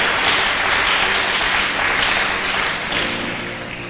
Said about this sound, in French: quelqu'un acclame pour la croix